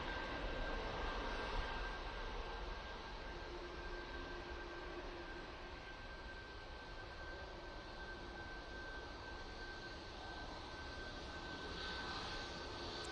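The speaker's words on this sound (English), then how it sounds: "And there goes the Ryanair off to Marseille." Ryanair jet airliner taking off from Manchester Airport bound for Marseille, a sustained broad engine roar with a steady whine, constant and moderately distant, with no voices.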